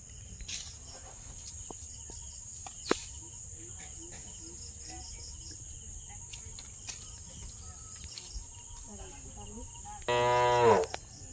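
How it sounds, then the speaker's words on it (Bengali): Cattle in a village cowshed low with a long, loud moo near the end, after a stretch of steady cricket chirring and faint scattered sounds, with no talking. "গরু বের করবো, গরু ভেতরে আছে।"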